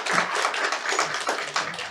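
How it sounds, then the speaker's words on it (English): Applause at a 3D magic show, a dense run of handclaps going on steadily for the full two seconds with no clear break. "I'm clapping"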